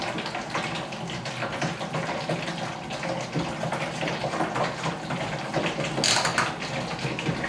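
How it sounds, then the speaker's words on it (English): Warm water pours into a bucket on a gravity-fed colonic system for a Cherub colonic chair, a continuous splashing, running flow at steady level, with a brief brighter splash near the end and no talk. "Put the water in the bucket. Set it up on this gravity-fed system so it fills."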